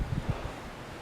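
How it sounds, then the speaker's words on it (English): Wind buffeting an outdoor microphone during a kettlebell workout, a low rumbling gust with soft rustle, steady and fairly quiet throughout. "it's getting windy"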